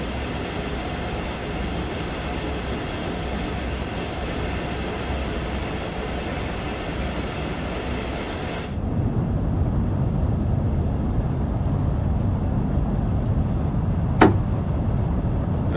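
High-speed train running in Train Sim World 2, Southeastern High Speed line: a steady rumbling cab drone that shifts abruptly to a deeper, louder rolling roar midway, with a brief sharp click near the end.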